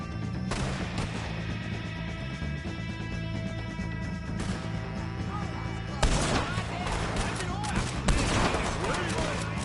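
Gunfire rings out in Red Dead Redemption 2 during a wagon shootout, with repeated shots and crashing volleys across the whole stretch, louder bursts near the end, and a voice shouting over the fire.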